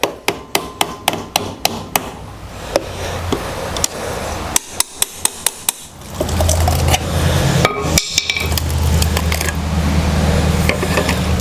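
A Kohler riding mower engine cover, stuck on with RTV silicone, gets a rapid series of sharp hammer taps from behind, close and loud, followed by steady mechanical noise and a few more isolated knocks.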